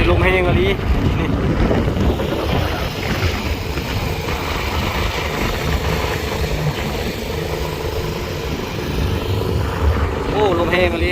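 Small boat travelling on open water in strong wind, with a constant loud roar of engine, water and wind buffeting the microphone, and a person talking throughout.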